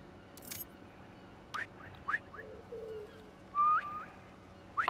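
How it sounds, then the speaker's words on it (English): Short bird calls and whistled chirps in the Spider-Man 2 video game, heard as a few brief bright bursts scattered over a steady low ambient rumble, fairly faint with no talking. "Try a whistle."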